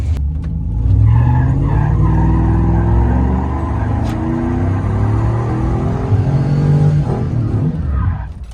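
Drifting car with very hard, worn tires squeals through a sustained slide, loud engine roar and steady tire noise filling the whole stretch, with no talk over it.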